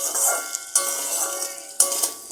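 Vegetables for a chicken stew sizzle steadily in a pan, with a few sharp scrapes and clinks as a utensil stirs them, close and clear.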